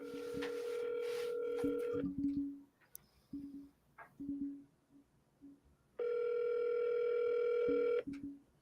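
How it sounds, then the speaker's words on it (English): Telephone ringing during a prank call, heard through the line: a long ringback tone, a stretch of quieter beeps and clicks, then a second long tone, with brief talk in the gaps. "At least it's actually ringing."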